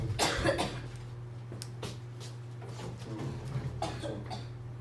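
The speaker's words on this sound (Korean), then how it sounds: "이게 기침이 못 참고 나오는 경우 있죠" A burst of rough coughing up close, followed by a few scattered smaller coughs over a low steady hum.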